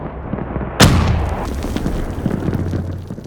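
A single grenade explodes in the video game Call of Duty: Black Ops 3, a sharp, loud blast that hits abruptly after a quiet moment and then decays into a rumbling tail with scattered debris-like crackle.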